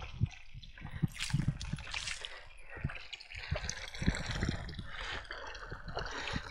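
Water trickles and splashes into a trough on a mountain pasture near a casera, a steady close gurgling flow with scattered knocks and splatters, no one speaking.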